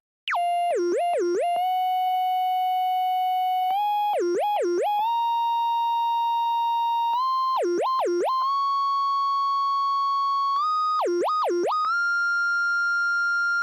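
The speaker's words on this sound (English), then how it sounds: "This is just played with a modified sine wave, and this reverb slowly fades away." A synth melody played on a modified sine wave with reverb, clean sustained tones stepping upward with quick warbling note flourishes between them, played alone with no talk.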